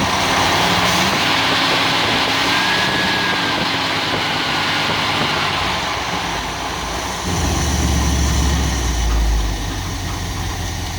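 A Dodge 318 V8 in a 1970s van idles steadily with a low, continuous rumble, close and fairly loud, with a brief deeper surge near the end.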